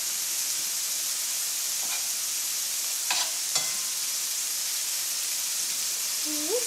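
Grilled shrimp sizzle steadily in a hot pan, a continuous bright crackling hiss broken by a few sharp utensil scrapes and clicks near the end, with no talk over it.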